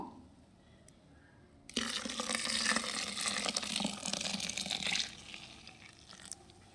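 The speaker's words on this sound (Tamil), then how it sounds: "இப்போ இது மூழ்கிற அளவுக்கு தண்ணி ஊற்றிக்குவோம்" Water pours steadily into a container of ground material for liquid garden fertilizer, starting abruptly after a quiet moment and splashing for several seconds before easing off.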